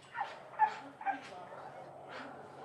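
Rescued dogs at a county animal control shelter give a few soft, faint yips and barks, scattered over a couple of seconds with a low background hum.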